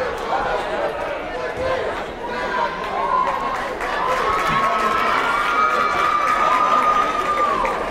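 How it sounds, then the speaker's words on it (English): A crowd cheers and roars at a Putnam high school basketball game at Central in Springfield, a steady swell of voices that keeps building under a talking commentator. "Putnam crowd getting into it early"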